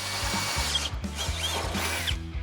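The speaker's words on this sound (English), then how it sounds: "Now we can go through and drill out the rest of the holes needed on that template." A power drill whirs in short repeated bursts while boring holes through a bolted-on template on a 1972 Chevrolet C10 truck, close and steady, with brief pauses between holes.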